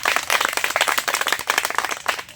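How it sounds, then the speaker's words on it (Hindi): An audience claps at a Hindi poetry recitation, giving dense, continuous applause with many overlapping hand claps, close and fairly loud, with no voices. "ताली बजाइए।"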